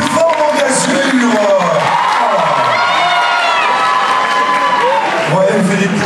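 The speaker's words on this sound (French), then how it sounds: "On l'applaudit très fort." Crowd at a Mang'Azur 2025 cosplay contest cheers and claps loudly for a Lucifer Morningstar cosplayer from Hazbin Hotel, with whoops and shouts rising over a continuous roar; an announcer's voice cuts through at times.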